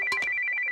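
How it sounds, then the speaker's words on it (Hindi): A mobile phone ringtone rings loudly and up close, a bright steady electronic tone with a quick double pulse at the start that then repeats in short even beats until it cuts off. "क्या टाइमिंग है, ये फोन तेरी निशा का ही होगा।"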